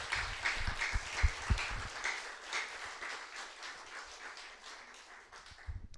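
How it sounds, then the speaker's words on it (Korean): Church congregation applauding together during a worship service, a steady wash of many hands clapping that holds for about six seconds, with a few louder close claps near the start and end. "주님께 영광의 박수를 드립니다"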